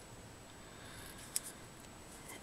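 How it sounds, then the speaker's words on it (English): Scissors snip ribbon once in a single faint, sharp click against quiet room noise, with no talking. "those aren't very good scissors for ribbon"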